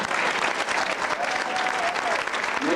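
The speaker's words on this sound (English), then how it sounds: "Give him a round of applause." Sustained applause from a crowd at a high school varsity football banquet, steady and fairly loud throughout, with a faint voice underneath near the end.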